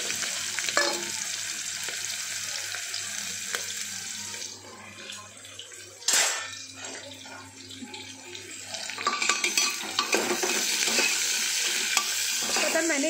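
Garlic and onion frying in a pan while being stirred, with a steady sizzle, scraping stirs and a sharp clatter midway, close and moderately loud; no talking.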